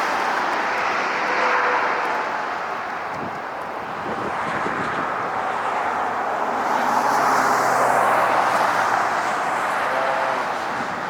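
An Air France airliner takes off at LAX. Its engines make a steady, broad roar with wind noise on the microphone, and the sound swells a little toward the end.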